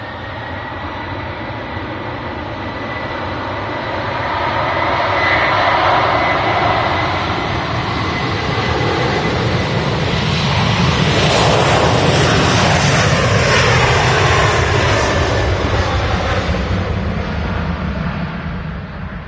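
An Aer Lingus Airbus A330 jet takes off for Orlando from Manchester Airport, a loud, sustained engine roar that swells to a peak mid-clip and holds steady, heard from the ground with no voices.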